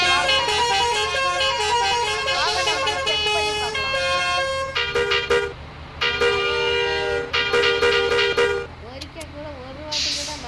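Repeated loud horn honks from a bus in Bus Simulator Indonesia, with steady engine hum and musical tones throughout, honks in bursts with short gaps.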